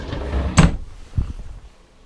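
A deep pull-out drawer under the dinette of a 2012 Coachmen Mirada RV slides and bumps shut, with a soft rumble, a sharp thud, then a second lighter knock, close up and with no talk.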